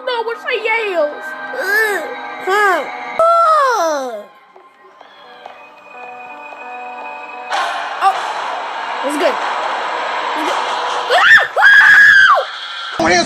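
In The Evil Nun horror video game, the nun lets out loud, repeated wavering shrieks and wails in several bursts, with game sound effects and slams between them, and a player's voice mixed in.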